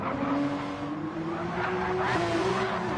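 Race car engine of a bright orange Porsche in Gran Turismo 7 at Deep Forest Raceway on a final race lap, a steady loud drone with shifting pitch and faint tire noise, no talk.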